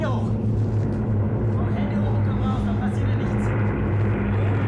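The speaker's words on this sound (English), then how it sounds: "the noise of the plane used as tension" Steady low droning airplane engine hum fills the scene, continuous and loud, with faint voices and movement on top.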